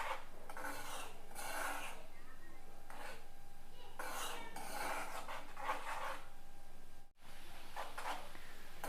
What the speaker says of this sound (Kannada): ಕುದಿಲಿಕ್ಕೆ ಸ್ಟಾರ್ಟ್ ಆಯ್ತಷ್ಟೇ ಸೌಂಡ್ ಬರ್ತದೆ ಬಿಗಿನಿಂಗಲ್ಲಿ